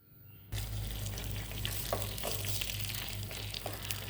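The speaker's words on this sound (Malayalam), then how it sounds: "ശ്രീകൃഷ്ണ ജയന്തി ആയതുകൊണ്ട് ഞാൻ പിന്നെ വെണ്ണ ഉരുക്കിയിട്ട് തന്നെ കാണിക്കുന്നതാണ്." Butter melts in a ladle and bursts into a loud, close sizzle after a brief quiet moment, then keeps up a steady crackling hiss.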